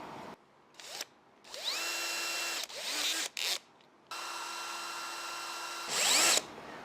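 A power drill spins a Honda Shadow 600/750 motorcycle carburetor valve against its seat with Mother's polish, running in several short whining bursts of rising pitch separated by brief pauses, loud and close.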